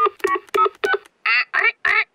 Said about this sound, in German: Ich rufe Oma Wutz an.